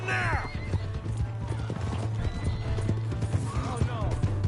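A horse in the Red Dead Redemption 2 video game whinnies loudly while its hooves clip-clop in a steady gallop. Game voices shout over the sounds.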